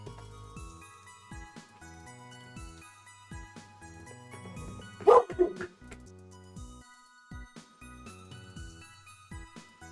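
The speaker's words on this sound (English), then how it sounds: "Dogs." A dog gives a short burst of loud barks and yips in the middle, standing out sharply over steady background music that plays throughout.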